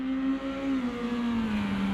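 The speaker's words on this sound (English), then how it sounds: "that's a car coming out the pits" Race car engine in a racing video game, leaving the pits slowly: a steady mid-pitched whirring drone with a gradually falling tone, continuous and alone without talk.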